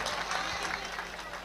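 An audience at a Hindi comic poetry recital claps in a dense, continuous burst of applause, close and fairly loud for the brief moment.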